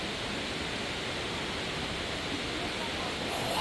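Shannon Falls in Squamish, British Columbia, a tall waterfall heard as a dense, constant rushing roar, loud and unbroken throughout.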